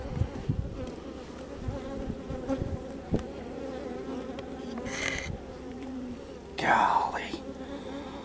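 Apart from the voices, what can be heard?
honey bees buzzing at an open hive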